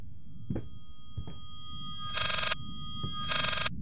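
An old-fashioned telephone bell rings twice in the horror game Layers of Fear, two bright metallic bursts each lasting about half a second, with soft thuds and quiet room ambience between them.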